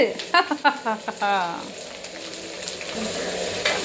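Food frying in a pan is stirred as it browns, giving a steady sizzle with scraping movements. Voices talk over the opening moments, then the sizzling continues alone.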